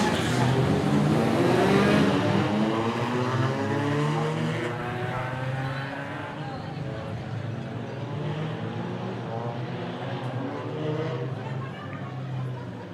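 2.1 modified race cars racing at a regional round, a dense, continuous engine roar with shifting pitch that fades slightly over time, heard alongside speech.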